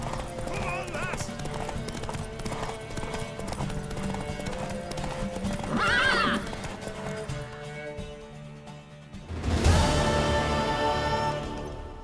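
In The Witcher 3, a horse's hooves clip-clop steadily under game music and spoken dialogue, then the horse lets out a loud whinny near the end.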